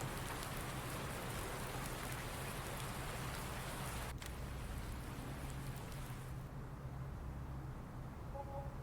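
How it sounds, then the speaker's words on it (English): Steady rain falls in Farming Simulator 19, a constant, dense hiss of drops that fills the whole stretch before quieting slightly near the end, with no talk over it. "And it's raining."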